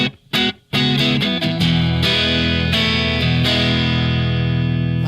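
Electric guitar played dry through a Fender-style amp with 6L6 tubes at low voltage, no reverb or echo: a few sharp plucks and short gaps, then sustained ringing chords that fade slowly, loud and close with no voice.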